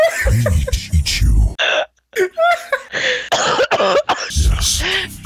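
A player doing a Venom voice impression coughs and clears the throat harshly in several rough bursts during a Fortnite match, interspersed with talk and brief gaps of silence.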